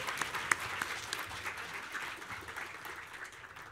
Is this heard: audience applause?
yes